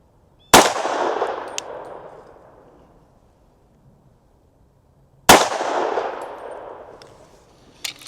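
Two loud, sharp 357 SIG pistol shots firing 125 gr Speer Gold Dot rounds into ballistic gel, about five seconds apart, each with a long echoing decay outdoors.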